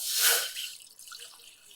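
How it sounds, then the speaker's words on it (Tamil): Water poured from a cup into a pan while making payasam, a short splashing gush that fades quickly into faint trickling. "ஒரு ரெண்டு கப்பு தண்ணி சேர்த்துக்கோங்க"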